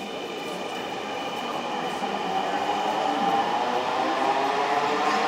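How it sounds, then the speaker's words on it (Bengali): A metro rail train pulls away from the platform after its doors close, a steady rumbling roar with rail hiss that builds gradually and grows louder throughout, with no voices over it. "দেখুন দরজাগুলো বন্ধ হয়ে গেল এবং এখনই ছেড়ে যাবে মেট্রো রেল"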